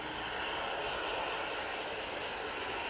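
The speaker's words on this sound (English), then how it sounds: "Mitsubishi Challenger. That's coming from Blackpool." A Mitsubishi Challenger jet arriving from Blackpool at Manchester Airport, heard as a steady, continuous broadband engine roar at fairly close range for a few seconds, with no voices.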